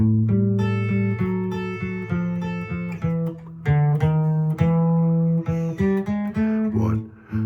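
An acoustic guitar plays a short delta blues turnaround of plucked notes and descending runs, ending on a resolving chord, played solo with no voices.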